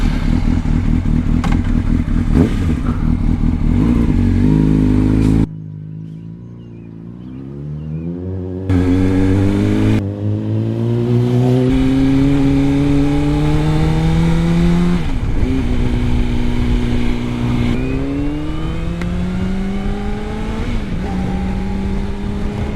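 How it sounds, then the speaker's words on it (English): A Honda CBR 600 sport motorcycle ridden behind a house, its engine loud and close, revving up and down through rising gear pulls with a brief drop-off near the middle before it climbs again. "here's where I'm basically just riding my motorcycle, testing behind the house"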